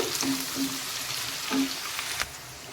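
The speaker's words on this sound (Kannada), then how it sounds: "ಸಣ್ಣದ ಈರುಳ್ಳಿ ಕಟ್ ಮಾಡಿಟ್ಟಿದ್ದೆ ಅದನ್ನು ಕೂಡ ಹಾಕ್ತಾ ಇದ್ದೀನಿ ಸ್ಲೋ ಉರಿಯಲ್ಲಿ ಇದನ್ನು ನಾವು ಫ್ರೈ ಮಾಡ್ಕೋಬೇಕಾಗತ್ತೆ" Chopped onion frying slowly in a pan over a low flame gives a steady soft sizzle, with a few light scrapes and clicks breaking through, and no voices.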